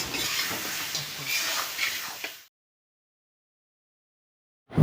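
Chicken pieces sear with cumin powder and sliced green chillies for biryani, giving a steady close sizzle with stirring scrapes that cuts off abruptly halfway, followed by silence and a brief loud thump at the end.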